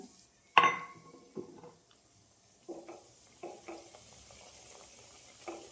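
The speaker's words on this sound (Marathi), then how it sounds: "तूप मस्त गरम झालंय तर मी आता आहे ना त्याच्यात मैदा टाकते" Maida flour roasting in hot ghee in a pan, with a sharp clink of a utensil near the start, then soft intermittent scraping and stirring strokes over a faint sizzle.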